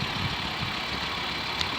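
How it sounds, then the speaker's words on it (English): An Audi 90 2.3 20V with the 7A five-cylinder engine idling close by, a steady even burble with light mechanical ticking and no voices. "There she is, the Audi 20 valve 7A engine."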